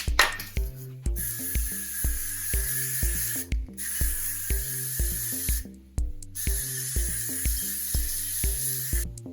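Hairspray is sprayed onto a styled cosplay wig in three sustained hissing bursts separated by short pauses. Steady rhythmic background music plays under the spray, and no one talks.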